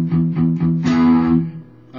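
Distorted electric guitar strums open chords for the intro of a song, several rhythmic strokes in quick succession, then one chord rings out and decays, loud and close.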